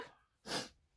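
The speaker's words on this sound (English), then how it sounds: "I am going to sneeze." A single close sneeze bursts out sharply, preceded by a brief intake of breath, then quiet.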